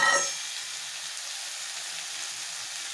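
Fish and potatoes frying in hot oil, a steady close sizzle with a brief sharp burst at the start that settles into a soft, even crackle throughout, no voices.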